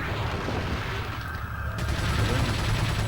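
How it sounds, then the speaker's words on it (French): Gunfire in the video game Resident Evil 4, heard as a dense, loud, continuous barrage of shots and booms filling the whole moment. "Je vais tirer quelques balles dans le bide"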